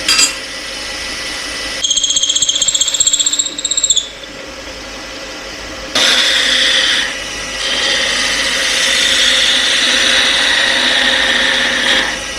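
A wood lathe turns a cane blank, a steady motor drone with tool-on-wood chatter and shifting whine that stops and restarts, loud and close, with no voices.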